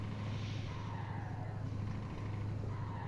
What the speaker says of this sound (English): That Scania sound,